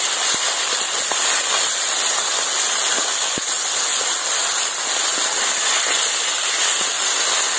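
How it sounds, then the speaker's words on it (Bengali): Fish frying in hot mustard oil in a wok, a steady dense sizzle and crackle running evenly throughout with occasional sharp pops. "এবার আমি মাছগুলো ভেজে নেব।"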